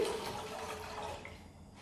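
Water pours steadily into a pot being filled to brew chai, a continuous close splashing rush that tapers off near the end.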